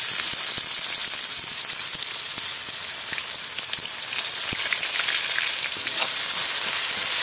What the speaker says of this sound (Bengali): এগুলো একটু কড়া কড়া করে ভেজে তুলে নেব